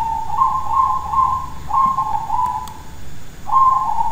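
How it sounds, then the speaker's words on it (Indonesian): A zebra dove (perkutut) cooing at night, clear repeated whistled coos in phrased bursts, close and loud against a quiet background. "sambil mendengarkan suara perkutut, itu di malam hari perkutut saya sedang berbunyi"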